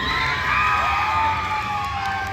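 A crowd at a live action-sports show on a touring event cheers and screams loudly and continuously, with excited shrieks layered over the roar.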